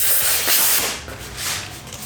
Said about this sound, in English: Spray this down with some soapy water in accordance to the laws.